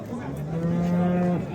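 A cow moos once, long and low, close by at the Olmaliq livestock market, with faint crowd noise behind.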